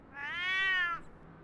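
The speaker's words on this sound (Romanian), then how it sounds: "se vaită pietul motan ca din gură de șarpe" A male cat gives one drawn-out, complaining meow lasting about a second, loud and close, with a quiet indoor background and no talking.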